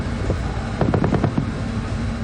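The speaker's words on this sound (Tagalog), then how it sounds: "isang lobo na tinatawag na killer tomato ang puntirya ng mga heavy machine gun ng magkakaalyado" Heavy machine guns fire a rapid burst of about half a dozen sharp shots at a balloon target during an allied naval gunnery exercise at sea aboard BRP Davao del Sur, heard at a distance over steady wind.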